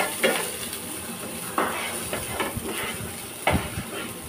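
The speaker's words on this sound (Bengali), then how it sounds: "এখানে একটু পেঁয়াজ দেবো, হালকা একটু সটে করে নেব" Onions sautéing in a pan for a quick pulao, with a steady low sizzle and hiss broken by several clear scrapes and clinks of a spoon stirring against the pan, close and loud.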